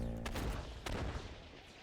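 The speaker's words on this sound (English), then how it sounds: "That was 2 explosions." Two explosions go off in System Shock, the first near 0.25 s and the second near 0.9 s, each a broad booming burst over a steady rumbling background. No voices are heard.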